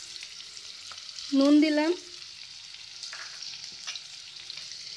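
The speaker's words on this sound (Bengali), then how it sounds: "তেল গরম হয়ে গেছে, পেঁয়াজ কুচো দিচ্ছি" Chopped onion fries in hot oil with a steady, close hiss of sizzling throughout; a voice speaks briefly over it.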